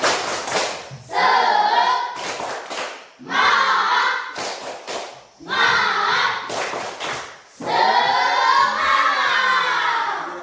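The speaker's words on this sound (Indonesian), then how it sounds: "Kita sama-sama tepuk semangat" A primary school class claps a rhythmic spirit clap together, loud bursts of patterned hand clapping in four group phrases separated by short pauses, with chanting voices mixed in.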